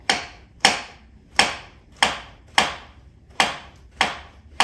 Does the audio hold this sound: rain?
no